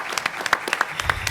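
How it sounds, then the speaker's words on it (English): An audience at a policy forum gives scattered, thinning applause, a loose patter of distinct claps heard fairly close with no speech over it. "I think we need to give a round of applause to the Capitol and District staff"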